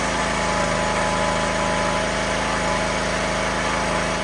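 A Craftsman small engine fitted with a new Hipa carburetor runs steadily at a close, loud, even idle, with a constant buzzing drone and slight vibration throughout; the engine has a suspected blown head gasket and still smokes.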